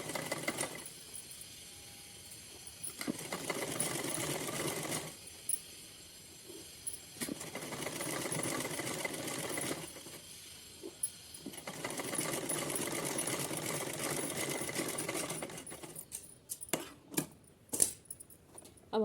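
Sewing machine stitching along a fold of fabric for a small doll outfit, with several bursts of rapid whirring stitching separated by short pauses, ending in scattered clicks and handling taps, close and fairly quiet.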